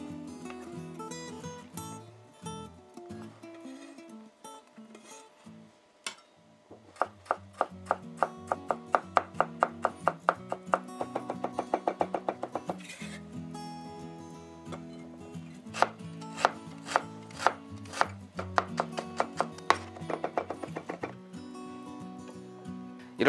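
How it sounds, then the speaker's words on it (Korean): Kitchen knife slicing garlic and ginger into thin 3 cm pieces and then mincing the rest on a cutting board, with brisk, even chopping taps in bursts, close and fairly quiet, with no talking. "마늘과 생강도 3cm 길이로 편 썰어 주시고 남은 부분은 다져 주세요"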